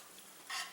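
Vegetable rennet mixed with water is stirred into raw milk for homemade mozzarella, a brief close swishing stir that swells suddenly near the end, with no talking.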